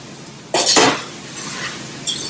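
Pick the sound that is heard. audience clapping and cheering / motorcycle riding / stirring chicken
stirring chicken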